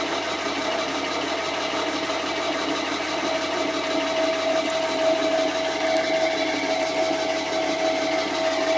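A milling machine turns slowly at near its lowest speed while a tap threads itself into a hole flooded with cutting oil, giving a steady, even mechanical whir with a thin high whine throughout.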